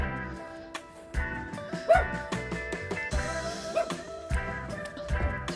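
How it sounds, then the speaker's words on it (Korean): Puppy at a countryside house giving short yips and soft whimpering barks, close by, with several brief bursts and people's voices in the background. "강아지가 집 지켜야 되는데 도망가고 있어"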